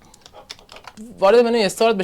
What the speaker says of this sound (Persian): وقتی که خودم فایر یا فایروال رو تایپ بکنم میتونم ویندوز فایروال رو اینجا ببینم